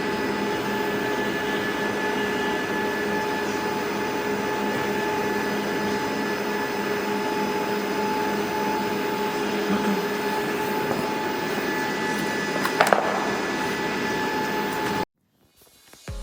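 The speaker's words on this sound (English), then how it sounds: "it is our great pleasure to recommend this CNC wood rotary cutting machine to you" An SK-520S CNC wood rotary cutting machine for making wooden ice cream sticks runs steadily with a loud, continuous mechanical hum and whine, holding the same level for about fifteen seconds before cutting off abruptly.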